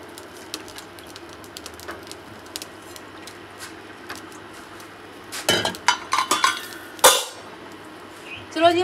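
Pots and dishes clatter and clink sharply as they are washed and stacked. A quiet stretch comes first, then a burst of loud, close metallic knocks and scrapes, with faint bird calls in the background.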